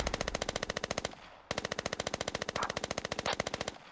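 Rapid automatic machine gun fire in a military video game, two long bursts of evenly spaced loud shots separated by a short pause, with no talk over it.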